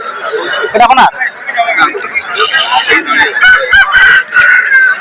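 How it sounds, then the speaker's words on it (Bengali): Chickens at a rural poultry market, with clucks and squawks rising over a busy crowd murmur, a few sharp calls standing out near the mic while people chatter throughout. "এটা তামিল মুরগি আছে"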